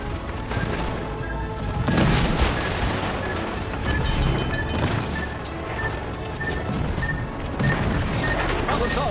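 Naval gunfire and explosions from a warship combat video game, with dense, continuous booms, crashes and cannon blasts layered over one another throughout.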